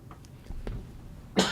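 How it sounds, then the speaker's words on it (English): A single short, sharp cough bursts out near the end, close and alone after a stretch of quiet room tone during a live sports radio broadcast. "I just had a cough."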